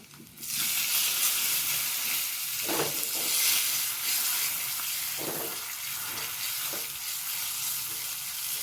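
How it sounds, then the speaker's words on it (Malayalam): Native curry leaves drop into hot oil and crackle into a loud, steady sizzle that rises suddenly and then holds, with a few soft stirring knocks underneath, while tempering for a buttermilk curry. "പിന്നെ നല്ല കരിവേപ്പില, നാടൻ കരിവേപ്പിലും കൂടെ ഇട്ട് കൊടുക്കാം. ഒന്ന് മൂപ്പിച്ചെടുക്കാം"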